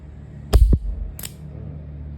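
A Taurus M856 .38 revolver with a 2-inch barrel is dry-fired, giving two sharp, close metallic clicks about half a second apart, with a dull low knock just after the first.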